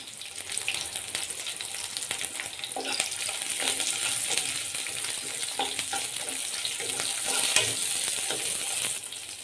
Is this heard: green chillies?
yes